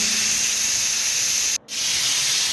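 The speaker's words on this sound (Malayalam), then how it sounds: "2 ഫിസിലാണ് ഞാൻ കേൾപ്പിക്കുന്നത്" A pressure cooker holding chicken curry, cooked without added water, lets out a loud, steady steam hiss that cuts off for a moment and then resumes. No voices are heard.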